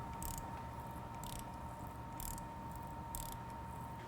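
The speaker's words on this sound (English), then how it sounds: "I want to be gentle tapping with the chuck." A small tap turned by hand in a chuck ratchets in four evenly spaced bursts of faint, crisp clicking over a steady hum, with no voices.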